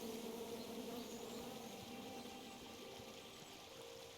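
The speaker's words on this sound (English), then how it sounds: "Come at me, bees!" Bees buzz around a beehive in King's Quest, a steady, dense insect drone that holds at an even level throughout with no voices.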